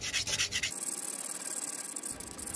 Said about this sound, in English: Now let me start sanding that down with some finer sandpaper.